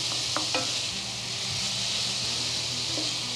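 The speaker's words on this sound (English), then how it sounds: "So we're going to add the garlic. Just give it a stir." Garlic stirred into onions softening in a pan on the stovetop for spaghetti sauce, a steady close sizzle with a few soft scraping stirs.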